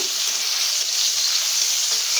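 Sliced ridge gourd, lightly salted, fries in hot oil in a pan, giving a steady, loud, even sizzle with no voices.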